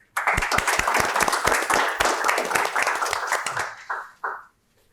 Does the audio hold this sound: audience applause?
yes